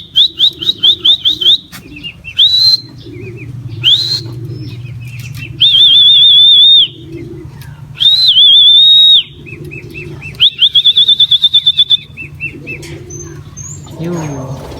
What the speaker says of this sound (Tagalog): nandito na yung isang ibon natin mga kalapatids, si Paniki.